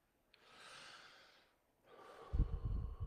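A person breathes in and out audibly, a soft airy inhale followed after a short pause by a rougher, louder exhale with some low rumble, close to the microphone.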